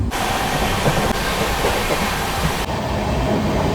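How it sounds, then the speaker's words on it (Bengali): The Sealdah Humsafar Express races at high speed through Barrackpore station at night, a loud continuous roar and rattle from inside the train, steady throughout with a brief shift near the end. "রাতের অন্ধকার ছিঁড়ে চেনা সব স্টেশনের ওপর দিয়ে এই ট্রেন ছুটছে বিশাল গতিতে"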